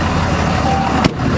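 Pickup truck engine idling with a steady low rumble, close and fairly loud, with a brief sharp knock near the end.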